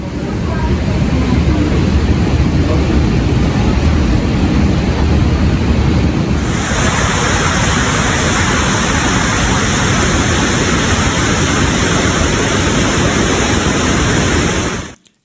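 Floodwater rushing out of a creek in Manali in the Himalayan foothills, a loud, constant roar of churning water with heavy wind buffeting on the microphone, unbroken throughout before cutting off abruptly at the end.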